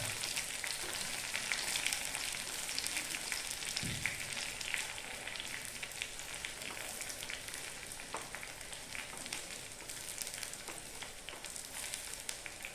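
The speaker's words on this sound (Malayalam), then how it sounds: "ചെറിയ ഉള്ളി നന്നായി പൊരിഞ്ഞു വരണം" Small onions (shallots) fry steadily in hot oil for a fish curry, a dense, continuous sizzle and crackle, close and even throughout with occasional faint stirring knocks.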